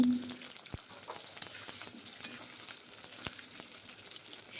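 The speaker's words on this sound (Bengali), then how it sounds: "তেলটাকে বেশ গরম করে নিয়েছি। এখন আলুগুলো প্রথমে ভেজে নেব।" Potatoes frying in hot mustard oil in a wok, a steady close hiss of sizzling with a couple of brief sharp clinks, no voices.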